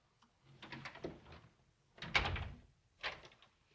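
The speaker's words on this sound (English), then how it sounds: "I locked the doors because the servants mustn't know." Doors in an old house are handled, with a series of wooden knocks, latch clicks and rattles in three bursts, fairly faint and close in a quiet room.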